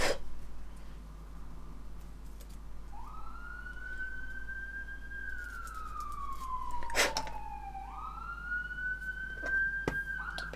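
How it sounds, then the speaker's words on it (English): An emergency vehicle siren wails outside, rising and falling in long sweeps at a moderate distance, with a few sharp clicks and knocks close by indoors. "It seems to always get sirens every time I'm filming."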